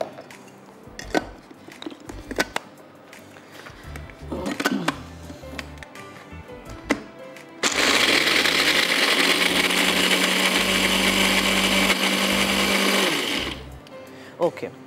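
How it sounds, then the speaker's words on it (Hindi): A blender grinds pistachios in a kitchen, its loud, steady motor whirring for about six seconds before cutting off, preceded by clatter and handling knocks. "थोड़े से पिस्ते इसमें डालेंगे और ग्राइंड करेंगे"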